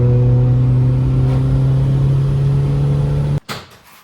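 A car engine with race coil packs hums at a steady, constant pitch in fourth gear, then cuts off suddenly, followed by a brief thump and a fading rustle.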